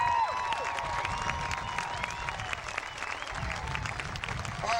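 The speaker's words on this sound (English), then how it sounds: "Now let's give a big round of applause for our 2012 players" A crowd at a Pony Baseball opening day applauds the 2012 youth players, dense sustained clapping from many hands with scattered cheers, filling the whole stretch at moderate distance.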